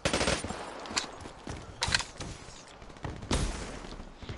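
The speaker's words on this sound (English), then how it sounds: "He's using a shotgun." Shotgun fire in Call of Duty: Black Ops 3 booms in several loud, uneven blasts with short gaps between them, over busy in-game noise.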